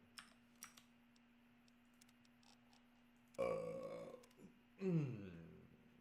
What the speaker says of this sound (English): oh, that was a good burp